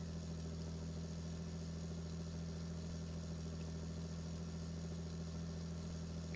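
Tractor engine in Farming Simulator 19, chopping hay, gives a steady low droning hum with a constant tone, fairly quiet and unchanging throughout, with no talk over it.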